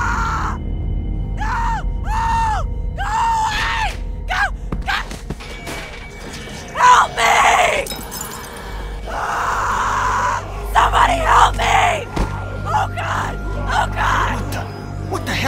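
A girl screams repeatedly in a tense zombie drama scene, a series of rising, wailing cries followed by thumps, heavy noises and voices.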